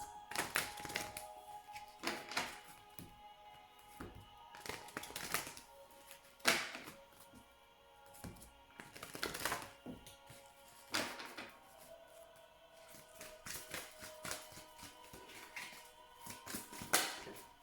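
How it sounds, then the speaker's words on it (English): Rapid riffling card shuffles in repeated short bursts, close and fairly quiet, with brief pauses and soft taps between them. "Please think of your question as I shuffle the cards."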